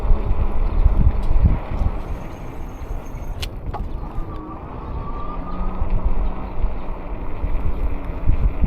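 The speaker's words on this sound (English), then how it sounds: "Man, it's so windy and cold." Strong, cold wind buffets the microphone during an e-bike commute on Peter's Canyon Trail, a steady low roar with gusts that swell and ease throughout.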